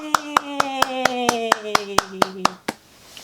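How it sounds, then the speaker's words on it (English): About a dozen evenly spaced hand claps in a brisk, steady rhythm during a children's read-aloud of a colors book, each clap crisp and close, while a sustained voice carries on underneath. "Can you clap with me, friends?"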